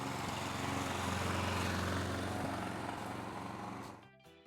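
Grin mulching lawn mower cutting grass without a collection bag, a loud steady engine drone with whirring blade noise that fades and cuts out near the end.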